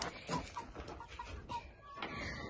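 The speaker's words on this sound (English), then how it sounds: "He is a rooster." Soft clucks and short bird calls from nearby chickens, including a rooster, come in scattered bursts over low background noise.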